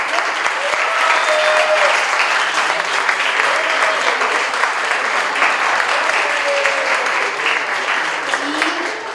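An audience at a brain-week science lecture applauds a teacher and her team, dense steady clapping continuing for around nine seconds with a few shouted voices mixed in.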